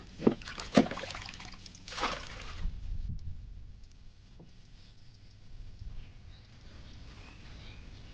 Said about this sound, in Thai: ต้องตักน้ำออกจากเรือก่อนนะคะ